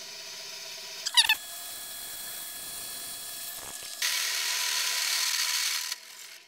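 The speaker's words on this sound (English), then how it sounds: "we're set up on the drill press to start drilling our holes" A drill press boring holes through a caster mount plate for a carbon fiber ripsurf board: a brief ratcheting crank click, then a steady close mechanical whir with a brighter, louder hiss of the bit cutting in toward the end.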